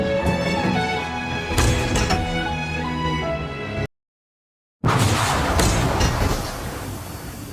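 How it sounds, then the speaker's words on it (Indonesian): A loud crack of thunder bursts and rolls, cuts briefly to silence, then another heavy crashing rumble follows. "tidak lama setelah itu petir menyambar"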